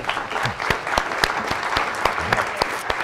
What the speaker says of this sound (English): Please give a nice round of applause to our student, please.